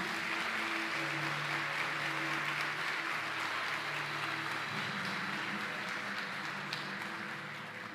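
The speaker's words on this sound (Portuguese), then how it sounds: "Será que você pode dar um aplauso ao Senhor por isso?" Church congregation applauding during a sermon, a dense, continuous roll of many hands clapping, steady and full from start to finish, easing slightly at the very end, with a low tonal hum underneath.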